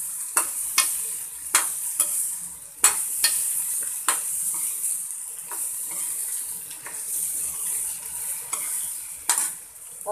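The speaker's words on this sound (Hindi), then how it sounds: "अब अच्छे से इसे फ्राई कर लें।" Soaked mung dal fritters frying in a pan while being stirred, with a steady hiss of sizzling oil broken by repeated sharp scrapes and knocks of the spoon against the pan, close and fairly loud, no talking.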